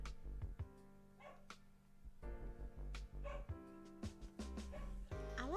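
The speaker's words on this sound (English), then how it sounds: "Now my dog's freaking out in the background." A pet dog barks and yips excitedly in the background, set off by a passing ice cream truck, with a steady backdrop of game music running throughout.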